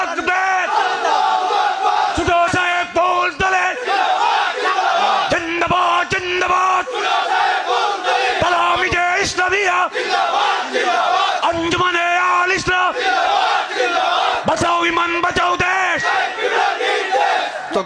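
A large crowd shouts religious slogans in loud, continuous unison bursts, chanted calls rising and falling with brief gaps, close and dense throughout.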